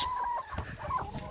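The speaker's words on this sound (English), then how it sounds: "hope you like the chickens" Chickens cluck softly on an allotment, a few short throaty calls in a brief faint burst with no talking.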